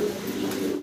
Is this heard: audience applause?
no